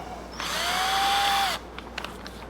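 Power drill boring through a spot weld on a Ford Bronco II quarter panel during rust repair, one sustained high whine of about a second with a slight pitch drop as it bites, close, followed by faint clicks.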